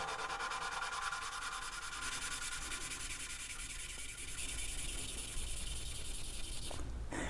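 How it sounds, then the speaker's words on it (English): A Lamborghini Gallardo Superleggera V10 valve being lapped by hand with grinding compound, twisted back and forth against its seat: a continuous, faint gritty rubbing and scraping, close up, with no talk. "we're going to twist back and forth, and you'll notice that the harmonic of the valve grinding compound changes"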